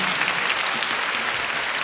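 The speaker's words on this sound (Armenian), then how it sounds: "Խնդրում եմ ծափահարեք բոլորին, ովքեր ներկայացված են։" A dense wash of clapping fills the hall as the audience applauds nominees at the 2007 Armenia National Music Awards during the Best Jazz Project category, loud and continuous.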